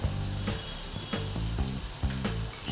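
Chili powder and spices sizzling as they are sautéed in a pan, a steady bright hiss with a few soft scraping stirs spaced through it, close and alone with no talk.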